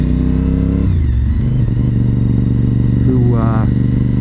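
A trike motorcycle engine rumbles steadily as it passes close by, with a loud, continuous low drone and a brief rising rev near the end, while people talk over it.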